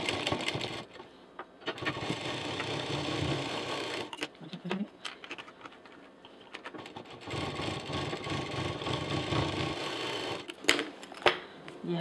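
A sewing machine stitches fabric and piping for a small homemade mini handbag with a zip and handles, running in steady bursts with short pauses between them, close to the listener.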